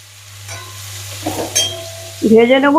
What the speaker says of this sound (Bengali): এইবার এগুলিকে একটু ভেজে নেবো